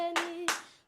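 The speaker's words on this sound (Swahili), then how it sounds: "Haya, amepigia makofi" Two sharp hand claps at a gospel awards event, spaced about a third of a second apart, close and distinct over a faint sustained tonal hum, then quickly dying away.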